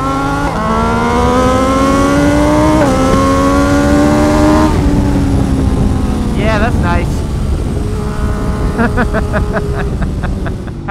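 A Brutale Dragster 800 RC naked motorcycle's engine revs hard and close, its pitch climbing in repeated sweeps before rapid throttle blips. A voice talks over the engine partway through.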